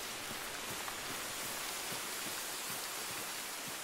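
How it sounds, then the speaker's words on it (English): Steady rain pours in theHunter: Call of the Wild, a dense even hiss with scattered faint droplet taps, constant throughout and with no other sounds. "It is raining."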